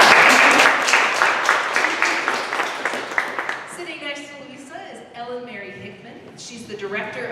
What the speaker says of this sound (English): Let's give a round of applause to Louisa.